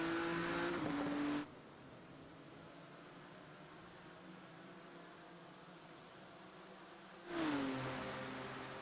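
BMW race cars in a sim racing game at Circuit of the Americas, a loud close engine whine at the start that drops away, steady faint track noise, then another car surging in loudly near the end.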